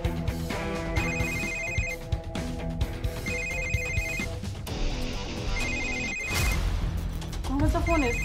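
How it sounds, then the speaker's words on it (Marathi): A telephone rings in repeated bursts of a bright electronic ring during a domestic scene, each ring lasting about a second with short gaps, loud and close, over background voices and room sound. "कोणाचा फोन आहे? सकाळपासून वाजतोय."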